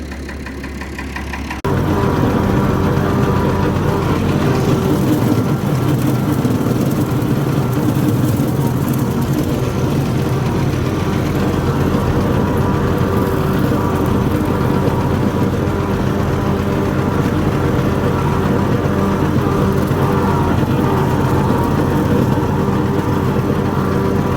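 Fordson tractor engine running with a slasher attached, starting up after a brief quieter moment and then holding a loud, steady, knocking drone close by.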